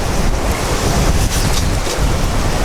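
Wind and choppy, whitecapped water rush loudly and steadily around a sailboat running under full sail with no engine, in roughly 16 units of wind, as a constant broadband roar with no talking.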